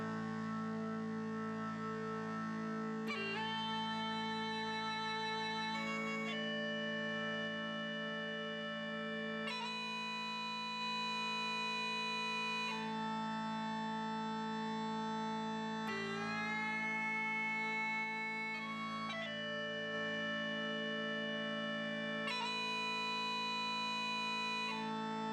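Uilleann pipes processed with warm tone-control harmonic distortion, a sustained drone under a melody of held notes that shifts pitch every few seconds, rich, buzzy and steady throughout with no talking.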